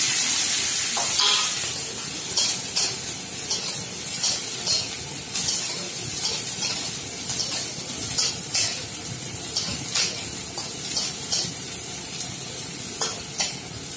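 Steady sizzle of onion frying in hot oil, with repeated scraping and stirring clatters throughout; no voices.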